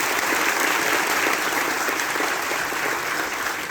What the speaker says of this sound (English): Please clap for all the officers who are here.